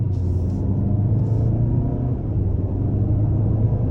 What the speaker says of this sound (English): So about quarter throttle, boost kicks in.